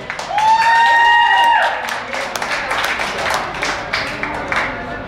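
Another round of audience clapping at a Czech evening event for producer Honza Gajdoš, broad and sustained crowd applause with a few whoops and voices carrying through before it thins out.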